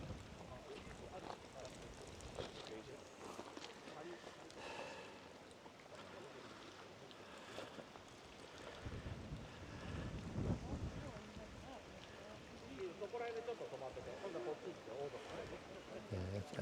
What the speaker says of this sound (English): It's definitely got right and windy today